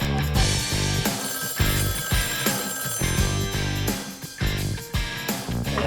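A telephone rings with a repeated, insistent pattern of bright, loud ring bursts that fill the whole stretch with no talking.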